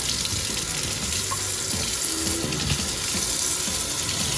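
Tap water runs steadily while a freshly gutted manini (convict tang) is rinsed of seaweed and guts, a constant close splashing hiss with faint clatter, no voices.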